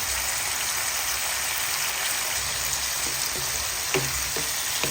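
Tomato with softened beef sautéing in a pan, seasoned with fish sauce, giving a steady, dense sizzle with a few faint scrapes of stirring near the end.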